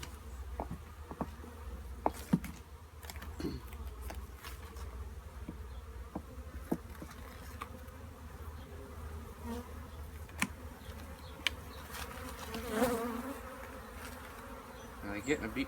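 Honey bees buzzing around an opened hive during a winter check, a faint steady drone with individual bees zipping close past now and then, plus occasional soft knocks and handling sounds.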